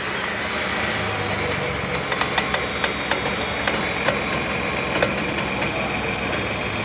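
A 2021 Ford F-150 pickup, leveled on 22x10 wheels, idles steadily up close while its wheels are turned, with a constant engine drone and light, irregular ticks and clicks over it.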